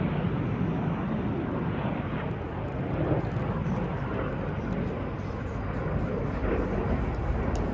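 Red Arrows jets roar overhead during a RIAT air display as the synchro pair rejoin in the Boomerang manoeuvre, a loud, broad, sustained engine rush throughout.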